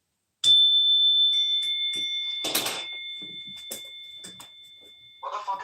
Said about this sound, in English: It's a Zen bell.